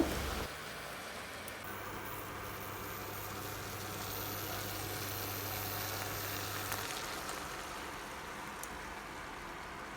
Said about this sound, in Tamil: இது எல்லாத்தையும் ஒரு 2 நிமிஷம் மட்டும் நல்லா வதக்கி விட்டுக்கோங்க.